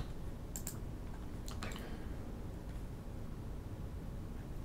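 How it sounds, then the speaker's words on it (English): Typing on a computer keyboard during a late-night livestream: scattered clicks and short bursts of keystrokes, faint and close, over a steady low background hiss. "Excuse the typing."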